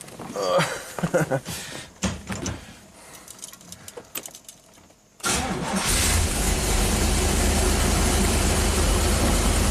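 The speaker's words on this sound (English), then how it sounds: "let's start the car" A classic Corvette cranks and fires up after a few seconds of handling noises and clicks, then settles into a steady, loud idle that fills the rest of the clip with no talking.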